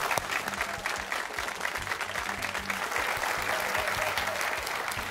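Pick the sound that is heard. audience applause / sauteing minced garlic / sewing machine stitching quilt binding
audience applause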